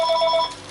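A telephone rings nearby in one short, loud burst of electronic trilling that cuts off partway through.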